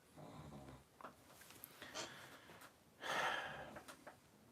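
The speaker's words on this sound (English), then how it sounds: "I apologize for the snoring." A pet dog snoring faintly during a live stream, with uneven wheezy breaths and snorts, one louder gasping snort near the end, no speech over it.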